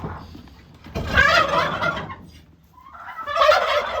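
Turkeys gobbling in two loud bursts, the first longer, separated by a brief lull, close by.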